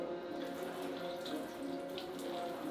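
Water pours steadily from a watering can, a continuous soft splashing stream that stays even throughout, fairly quiet and with no voices.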